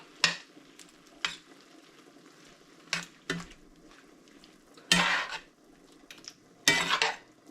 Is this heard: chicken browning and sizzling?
yes